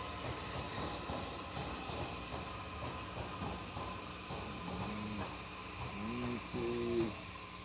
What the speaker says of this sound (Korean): 짜가 씨 덕소행 열차가 지금 공덕에 도착했으니까